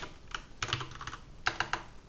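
Keys clatter on a computer keyboard in a few quick bursts separated by short pauses, close and fairly quiet.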